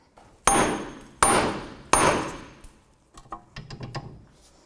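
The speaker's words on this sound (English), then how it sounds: "when I hit this with a hammer" Three heavy metallic hammer blows on the rear wheel hub of a 2001-2007 Volvo V70 ring out about a second apart, each decaying with a clang, followed by quieter clinks and rattles of metal parts.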